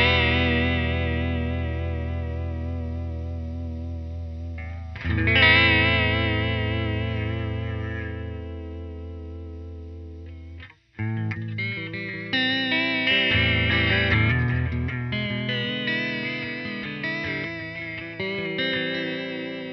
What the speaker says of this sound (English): I'm going to switch it over to sine wave.